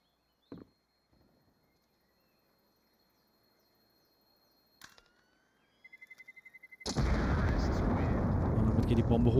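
A bomb detonates in Counter-Strike on the Inferno map during a professional match, a sudden massive broadband blast after sparse quiet clicks and a rapid beeping countdown, the roar sustaining loudly to the end.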